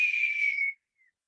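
A single voice imitates a firework's rising whistle, one steady high tone held for about three quarters of a second, then cut off, followed by a faint brief echo of it. No talk.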